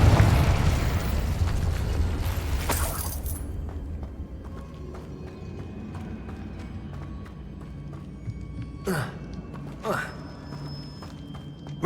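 Confringo fire spell blast in the Hogwarts Legacy video game: a loud, broad explosive burst opens and decays over a few seconds, followed later by two brief whooshing sweeps over low game ambience.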